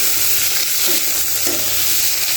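Overcooked boiled potatoes fry in a pan, giving a loud, continuous close-up sizzle with faint stirring scrapes.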